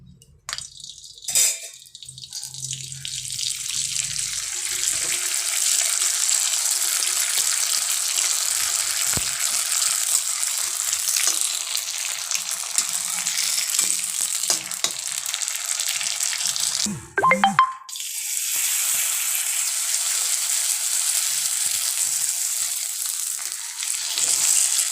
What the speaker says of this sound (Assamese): মই কেৰাহীখনত ৰিফাইন তেল দি লৈছোঁ এতিয়া পাপৰখিনি ভাজি লওঁ